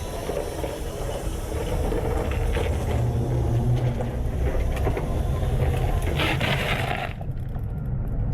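A swapped 5.7L V8 in a second-gen 4x4 Tacoma launches at full throttle, a loud, steady broadband roar that holds for about seven seconds before cutting off abruptly near the end.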